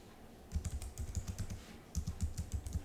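A computer keyboard clicks under quick fingers as a password goes in, two bursts of rapid, close keystrokes separated by a short pause, crisp and fairly quiet.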